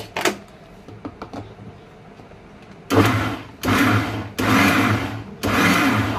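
Blender whirring a protein milkshake of milk and saffron in four loud bursts of a second or so each, stopping and starting, after a stretch of quiet kitchen clatter.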